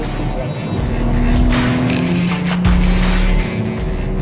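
A 2021 BMW M3 sedan brakes hard into Hatzenbach on a race circuit, its engine note dropping in loud, close interior roar with shifting tones and a narrator talking over it.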